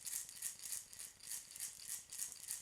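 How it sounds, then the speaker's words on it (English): A very small gourd rattle is shaken in a steady rhythm of about eight quick, dry, bright swishes, quiet and close, with no voices. "I have this very small gourd rattle."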